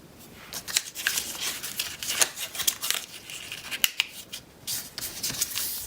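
Origami paper being folded into a chicken figure gives crisp, irregular crinkles and rustles, sharp creasing snaps scattered through a quiet room, close by and without talk.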